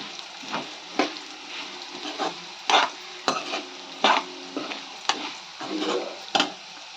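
Gongura pachadi being fried in a pan during cooking, with a steady sizzle broken by repeated close scraping stirs at irregular intervals and no talking.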